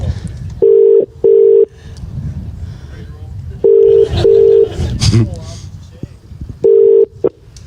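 A phone's ringback tone plays over a speakerphone in repeated double rings, three pairs in a row, while people murmur and talk in the background.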